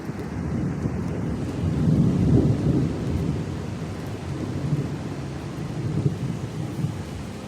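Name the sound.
thunderstorm with thunder and rain in Florida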